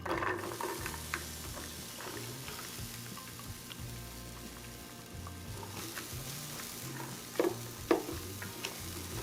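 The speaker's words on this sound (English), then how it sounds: "Add your onions." Onions fry in butter and a little oil in a pan, making a continuous close sizzle with soft stirring scrapes and a few brief knocks near the end, and no voices.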